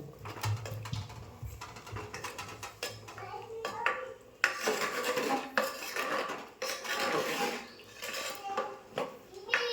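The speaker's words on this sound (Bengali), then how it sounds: "এই যে ফুটছে এই যে নেড়ে দিয়ে এবার কম আঁচেতে দেবো" A pot of handi chicken boiling on a stove is stirred, with clinking and scraping of a spoon against the pot in bursts over a low bubbling simmer, close by.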